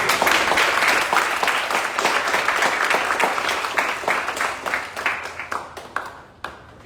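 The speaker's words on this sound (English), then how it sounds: "we really owe a round of applause to our panel" Audience applause for a panel on AI, ethics and inequality in Southeast Asia. A full, dense burst of clapping thins out into a few scattered, separate claps as it dies away.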